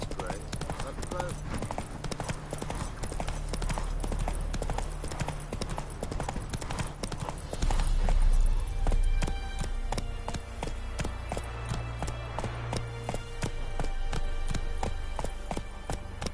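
Horse hooves gallop in The Witcher 3, a steady rapid clip-clop rhythm over a continuous game soundscape, growing louder and busier about halfway through, with voices speaking over it.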